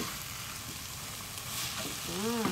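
Shrimp paste (bagoong alamang) sautéed in a pan, with a steady close sizzle of frying throughout and stirring scrapes, rising slightly louder near the end alongside a brief voice.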